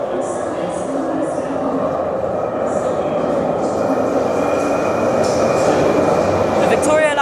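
A London Underground Victoria Line train for Walthamstow Central sits at a platform at King's Cross St Pancras, a continuous low rumble and hum filling the station, with a voice talking over it.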